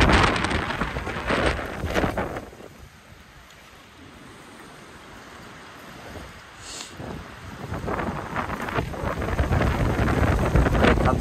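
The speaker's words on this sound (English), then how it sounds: "There comes another gust." Cold wind gusts across an exposed winter lake and buffets the microphone in loud roaring surges. A quieter lull in the middle gives way to a strong returning gust.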